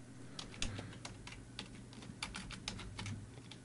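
Quiet, steady typing on a computer keyboard as HTML input field code is entered in Dreamweaver, a run of soft, close key clicks at an irregular, fairly quick pace over low background hum.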